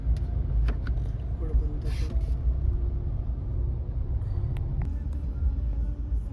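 A car sits in slow Mumbai traffic, its cabin filled with a low engine rumble and road noise, a few soft knocks and hisses, and quiet voices talking underneath.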